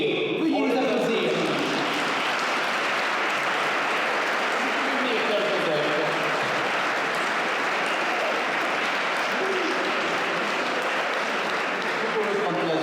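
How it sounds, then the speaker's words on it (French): A gala crowd in Lanoraie gives the mayor and the priest warm, sustained applause, a thick wash of clapping that carries on evenly for several seconds with faint voices mixed in. "Veuillez les applaudir."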